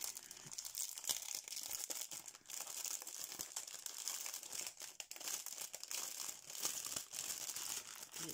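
A plastic zip bag holding diamond painting beads is opened and handled, giving close, continuous crinkling and crumpling with a few sharper rustles, fairly quiet and without talk.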